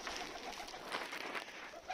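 Young pigeons brought over from an old loft coo and call close by, a steady murmur of soft bird voices filling the space with a few brighter calls rising above it.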